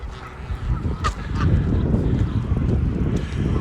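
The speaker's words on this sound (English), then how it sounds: "There's the geese, not worried about the thin ice." Geese honk on a partly frozen lake in a city park in early spring, a few clear calls standing out over steady wind and ambient outdoor noise.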